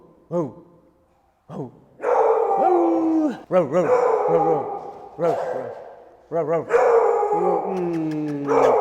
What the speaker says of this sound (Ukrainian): Собаки як реагують на мене? Нормально ще гавкають?